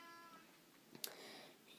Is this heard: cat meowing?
yes